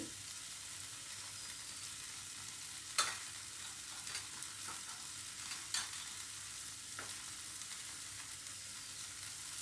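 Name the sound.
stirring Kashmiri chili powder into egg do pyaza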